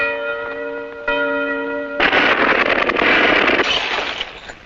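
A cartoon tower bell clangs with a rich ringing tone, struck twice, then gives way to a loud rumbling crash that fades out.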